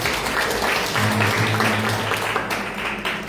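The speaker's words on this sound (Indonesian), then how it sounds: "Kita kasih aplaus dulu." A church congregation at a first service in a new building breaks into sustained applause, a dense wash of clapping that fills the room evenly before slowly thinning out.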